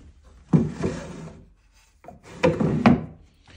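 Two wooden drawers on a Regency rosewood chiffonier with brass inlay slide open and shut, each a close, rough scraping rub of wood on wood ending in a soft knock, with no talking.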